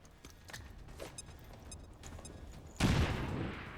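A grenade blast in the video game XCOM 2 lands as one sudden, loud, broad explosive burst near the end, rumbling on after scattered gunfire-like pops and clicks.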